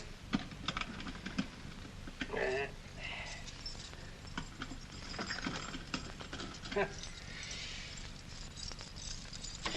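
Keys jingling and clicking in a lock, then a desk being searched with scattered knocks and rustles, faint and intermittent under low voices in an old interior scene.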